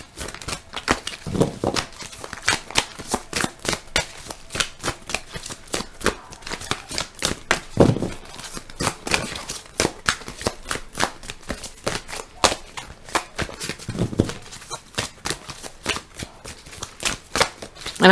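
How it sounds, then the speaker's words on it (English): Tarot cards are shuffled by hand, a rapid run of crisp riffling clicks and flicks, close and fairly loud, with brief pauses and a few softer thumps as the deck is gathered. "And this is how I shuffle all of my cards when I'm doing readings"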